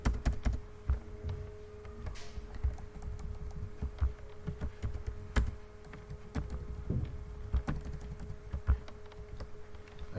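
Typing on a computer keyboard while entering code for a Spring dependency injection example, a steady run of quiet, close key taps with uneven rhythm and a few louder thunks, no talk.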